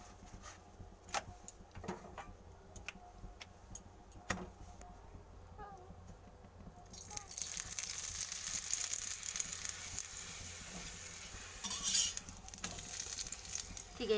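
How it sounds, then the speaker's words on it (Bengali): A paratha frying in ghee in a pan, first with faint clicks and scrapes, then a loud, steady close sizzle that swells midway and keeps crackling to the end, with no talk. "আমি পরোটাটা ঠিক এইভাবে ভেজে নেব এক এক করে"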